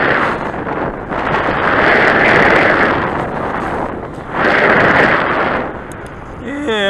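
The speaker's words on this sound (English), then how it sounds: "There's that high wind I was telling you." High wind blows at a model aircraft flying field, battering the microphone in two long, loud roaring gusts with quieter buffeting between, and a voice briefly heard.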